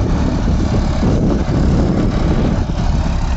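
A John Deere 5405 4WD tractor with a Lemken reversible plough runs with a steady, close, rumbling diesel drone that holds constant and loud from start to end, with no voices.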